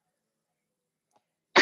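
A sneeze bursts out abruptly at the very end after near silence, loud and close, with only a tiny faint sound just before it.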